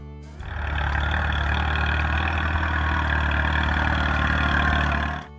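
An old Allis-Chalmers B small farm tractor engine roars to life and runs at a steady, loud, throbbing pitch for a few seconds before cutting off.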